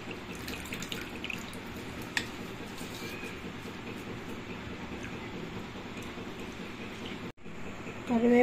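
Curry leaves and green chillies are rinsed under a running kitchen tap, a steady faint stream of water with a brief pause near the end.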